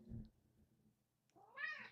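A cat gives a single short meow near the end, rising and falling in pitch, faint and close, after a brief low thump at the start.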